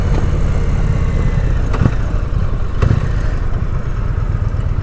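A Challenger motorcycle engine runs steadily and loudly up close, a dense continuous rumble with a couple of brief mechanical ticks and no voices.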